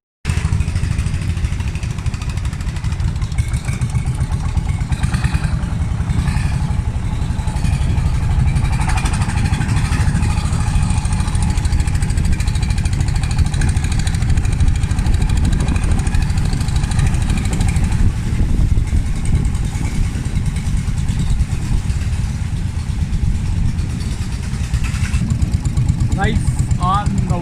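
Longtail boat engine on Inle Lake in Myanmar, a loud steady droning motor running close by for the whole stretch, with voices talking over it.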